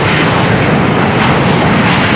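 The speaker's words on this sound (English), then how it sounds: "Even quiet little civilian aircraft like this" A quiet little civilian aircraft flies by, its engine a loud, continuous droning roar that holds steady throughout, with no voices.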